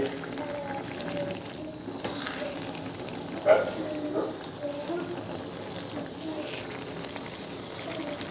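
Rice pulao with a big catla fish is stirred in a pot, giving a soft, steady sizzle and bubbling with an occasional utensil scrape or clink, beneath a person talking.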